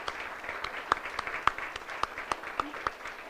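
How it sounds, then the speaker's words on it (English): Steady applause from a crowd at a college awards ceremony, with a few sharper, louder claps standing out from the continuous patter. "one more round of applause for all our winners tonight, please"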